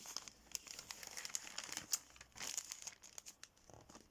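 Gift wrapping paper is folded by hand, producing close, quiet crinkling and crumpling in short irregular bursts, with a few sharper crackles.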